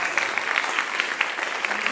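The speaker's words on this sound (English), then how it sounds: "how about a round of applause for Mrs." Audience clapping at a school winter concert, brisk dense applause filling the whole short moment, close and steady, with no voices over it.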